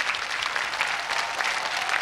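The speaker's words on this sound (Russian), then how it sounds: "Аплодисменты обеим нашим участницам." Dense, lively applause from a studio audience, many hands clapping steadily and fairly close for the whole stretch.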